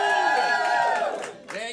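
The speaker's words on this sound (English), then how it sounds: "the crowd goes wild!" A comedy-show audience cheers and whoops loudly at the start of the main event, a bright swell of shouting voices that dips briefly and then rises again.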